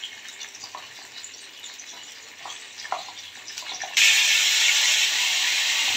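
Hilsa fish pieces rubbed with salt and turmeric fry lightly in hot oil, a steady crackling hiss that flares much louder and denser partway through as the fish goes in, with no talk.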